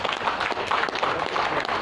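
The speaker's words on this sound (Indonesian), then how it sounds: "Tepuk tangan untuk pengantar" An audience claps together after an introduction, producing a short burst of continuous, fairly loud applause with no break.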